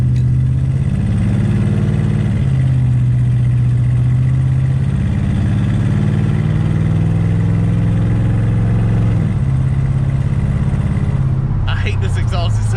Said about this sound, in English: I hate this exhaust. It sounds like a raggedy old car